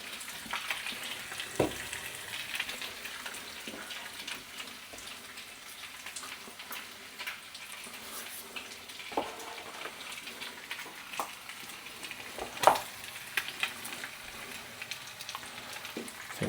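Bacon sizzles in a pan with a steady crackling hiss throughout, broken by scattered pops and spits, close and moderately quiet with no talking.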